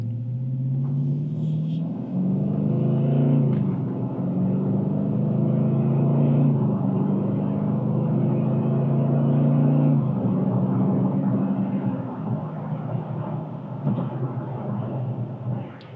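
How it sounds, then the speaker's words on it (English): Exhaust note of a 2023 Dodge Challenger R/T Plus under acceleration, a steady low engine drone that rises in pitch and holds loud for most of the stretch, with road and wind noise underneath. "I'm gonna accelerate just a little bit harder, just because hopefully you can hear the sound, the tone of the exhaust system"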